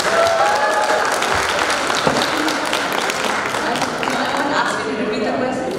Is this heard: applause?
yes